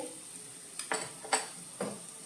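Chilli powder, hing and garam masala stirred in a frying pan for a Konkani dry prawn sukke, three soft scraping strokes with faint sizzle beneath, close but quiet and without talk.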